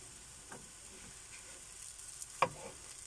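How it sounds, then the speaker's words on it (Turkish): Crepe batter fries in a hot pan as a soft, continuous sizzle with a few brief scrapes and taps, heard close and fairly quiet without talk. "Tavamızda kızdıkça daha çabuk pişecektir kreplerimiz."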